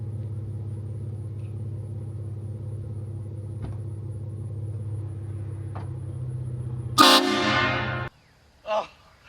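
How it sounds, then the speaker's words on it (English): A low 2017 Ford F150 engine rumble idles, then one loud, blaring aftermarket HornBlasters truck air horn honk lasts about a second before cutting out, followed by a brief faint clatter. "I'm gonna honk the horn"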